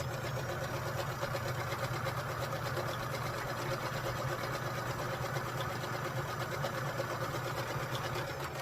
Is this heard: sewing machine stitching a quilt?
yes